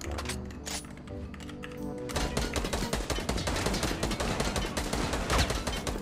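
Rapid bursts of video game gunfire, sparse at first and then a dense, continuous rattle of shots close up, with no talking over it.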